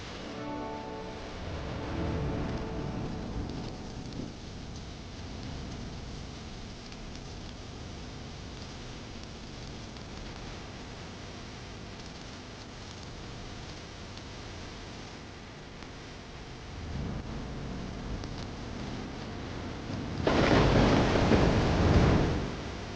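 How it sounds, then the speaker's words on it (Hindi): Heavy rain pours in a continuous hiss with low rumbling swells like distant thunder, then a louder burst of downpour near the end, with no talking. "ये हसीन बरसती बारिश जो खुदा की रहमत कहलाती है"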